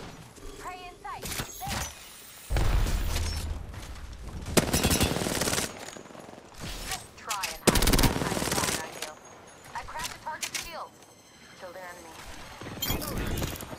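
Bursts of video game gunfire crackle in short volleys with gaps between, mixed with a voice talking in the middle.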